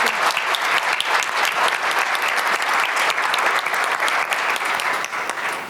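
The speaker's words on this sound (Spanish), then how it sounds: "Un aplauso para el panel porque estuvo realmente interesante." Audience at a road safety conference clapping for a panel, a steady, full round of applause from a roomful of people lasting several seconds with no pause.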